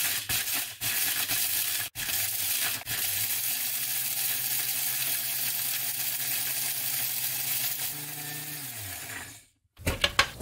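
Crisp dried onion ground into powder in an electric grinder, a loud, steady whirring roar with a brief break early on, a falling pitch as the motor winds down, then silence and a few knocks.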